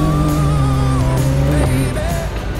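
A two-wheel-drive off-road vehicle slides around on dirt at Trail Hero 2022, its engine revving loud and close with shifting, wavering pitch as it throws dirt.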